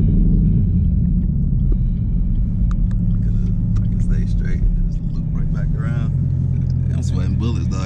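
A 2022 Rapid Blue Chevrolet Camaro ZL1 rumbles steadily while driving, with a deep continuous engine drone heard from inside the car under people talking.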